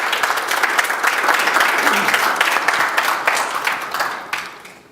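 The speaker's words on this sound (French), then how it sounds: "On peut l'applaudir, s'il vous plaît." A crowd applauds a table tennis competitor at a draw ceremony, with steady, dense clapping that stays loud for the whole stretch and fades slightly near the end.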